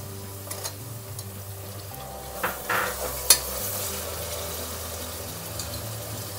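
Fenugreek leaves and field beans fry in oil and get stirred for a vegetable pulao: a steady near sizzle with scraping stirs and a few sharper knocks against the pan midway, no speech.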